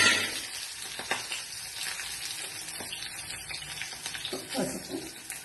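Green chilies and curry leaves frying in an oil tempering with garlic and cumin, a close hissing sizzle with a few stirring knocks, strongest at the start.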